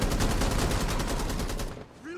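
Rapid automatic gunfire in Rainbow Six Siege rattles in a loud, evenly spaced stream for nearly two seconds, then stops abruptly as a voice starts speaking.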